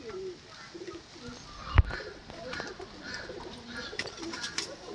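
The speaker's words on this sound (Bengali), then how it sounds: "প্রত্যেকটাই রেজাল্টের পায়রা" Madras pigeons, female birds kept for racing, give soft low coos amid faint background bird sounds, with one brief loud thump partway through.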